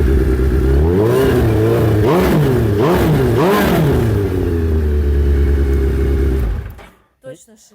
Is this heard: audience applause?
no